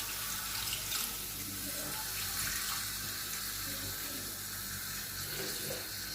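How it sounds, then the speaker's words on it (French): Water poured into a pan holding chicken marinade, a continuous, steady rushing stream heard close up, with no talking. "Et je vais y rajouter l'eau. J'ai mis un petit peu d'eau avec le fond de marinade."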